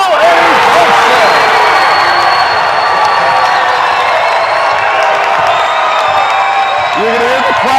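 Loud gym crowd at a boys' MIAA Division 5 tournament basketball game between Old Colony and Pioneer erupts in sustained cheering, whoops and shouts right after a steal, a dense roar holding steady throughout.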